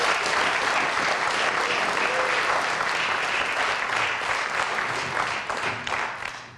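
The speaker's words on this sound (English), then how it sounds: "So if you can give the seniors a round of applause" An audience at a high school spring band concert applauds the seniors with steady, dense clapping from a full crowd that holds level, then thins out and fades at the end.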